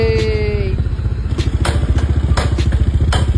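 A Honda ADV 160 motorcycle fitted with an RS8 exhaust pipe idling close up, a loud rapid throbbing putter with periodic throttle blips, while a brief whistle-like tone fades out at the start.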